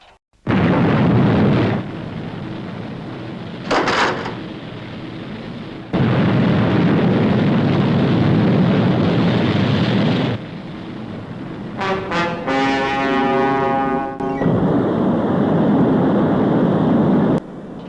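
Rocket engine ignition and launch from the Fireball XL5 TV show: long, loud roaring bursts broken by short pauses, with a sharp whistling, tonal sweep near the end as the blast continues.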